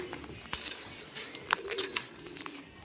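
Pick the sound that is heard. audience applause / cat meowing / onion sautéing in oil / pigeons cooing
pigeons cooing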